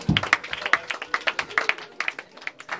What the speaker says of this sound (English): so I think that deserves a round of applause from everyone